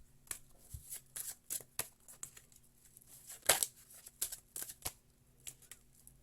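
Deck of playing cards shuffled by hand, quick bursts of riffling and flicking in an irregular rhythm, close and fairly quiet in a still room.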